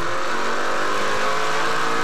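A Can-Am-backed race car at an oval short-track race in Quebec screams by close and loud, a brief, steady, full engine roar with no voices.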